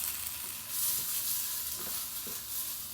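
Steady sizzling and crackling of eggplant and okra frying in a pan, a continuous hiss with a few soft stirring clatters, close and moderately loud.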